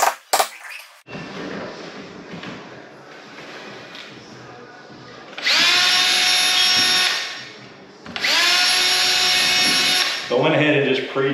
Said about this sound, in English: I went ahead and just pre-drilled all the holes since they're so close to the edge